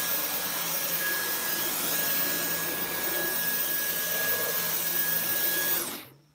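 A Dyson V10 Animal cordless vacuum cleaner runs with a loud, steady whine in a garage, then cuts off and winds down abruptly near the end.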